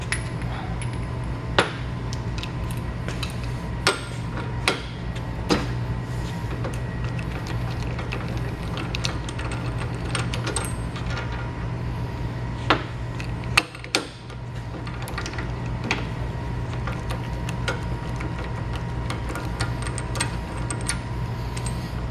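Metal clinks and sharp taps of a 1-inch socket wrench working loose the top and side caps of a pressure-losing pump in a repair shop, scattered irregular knocks over a steady mechanical hum.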